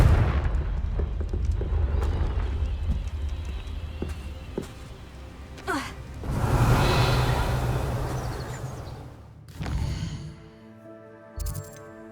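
Confringo fire spell blasting in Hogwarts Legacy, a booming explosion swelling mid-way after scattered footsteps and thuds, followed by a shorter second burst and fading rumble.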